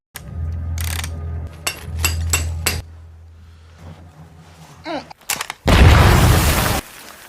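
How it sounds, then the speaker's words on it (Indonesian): A mining explosives blast in an old deep mine tears open a huge chasm, arriving as a loud roaring burst of rumbling noise near the end, after low droning music and scattered thuds. "Ledakan pun terjadi dan terbukalah sebuah jurang besar"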